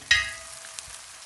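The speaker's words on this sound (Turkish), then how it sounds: "Havucun kavrulması önemli." A short burst of sizzling as carrots hit hot oil, loud at first and then settling into a quieter, steady fry.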